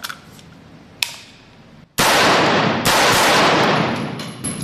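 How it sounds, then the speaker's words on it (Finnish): Two sharp gunshots from a Heckler & Koch SP5k pistol ring out close and loud, about a second apart, each leaving a long bright reverberant tail on an outdoor range after a softer earlier crack. "Ammutaan pari laukusta."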